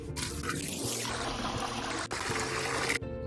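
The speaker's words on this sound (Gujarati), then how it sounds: "તો પાણી ભરીને તપેલું ઉપર ચડાવી દીધું છે." Water pours into a cooking pot at home early in the morning, a steady close trickle and splash lasting throughout with no talking.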